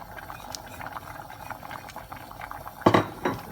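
Mung dal lentils boil in a pot, a soft bubbling simmer with light gurgles, then a couple of sharper clinks of a utensil or lid near the end; no talk.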